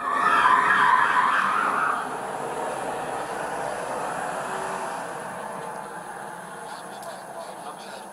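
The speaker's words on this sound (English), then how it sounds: "Squealing can be heard from Jones's vehicle as he drove into the police vehicle." A long, harsh tire squeal from a car driving into a police vehicle, loudest at first and then fading into a steady grinding screech.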